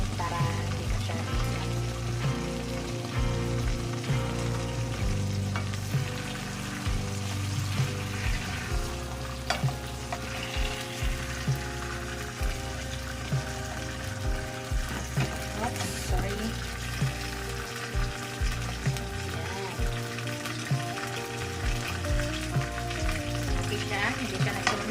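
Salmon fries in a pan with a steady, loud sizzle and crackle that runs throughout, broken by occasional stirring clinks and scrapes, with a voice talking faintly underneath.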